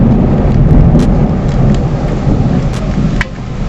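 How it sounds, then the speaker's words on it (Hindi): Heavy rain pours outside in a thunderstorm, a dense loud wash with deep low rumbling thunder underneath and scattered sharp drops ticking close by. "बारिश हो रहा है बाहर"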